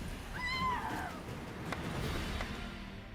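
A cat in the video game Witcher 3 gives one clear, rising-then-falling meow, close and fairly loud, followed by faint clicks and game ambience.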